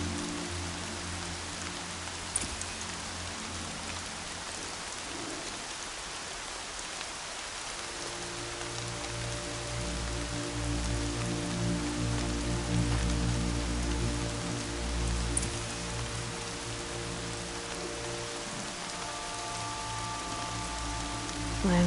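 Steady rain patters across surfaces in Horizon Forbidden West, a continuous wash of drops that holds throughout, with low tonal music layers swelling in beneath it partway through and a faint thud or two.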